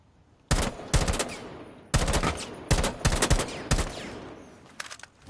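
Automatic gunfire in a shooter video game, several sharp close bursts of rapid shots separated by short pauses, loud and crisp with no talking over them.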